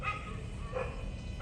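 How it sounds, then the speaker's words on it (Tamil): A dog barks in the horror video game Poppy Playtime Chapter 2, heard as faint, muffled yips and barks set low under steady game ambience. "நாய் குலைக்குது"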